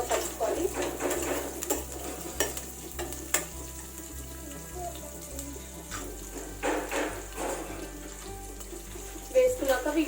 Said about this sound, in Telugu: ఆ పచ్చిమిరపకాయలు వేసుకొని వీటిని లైట్ గా కలుపుకోవాలి.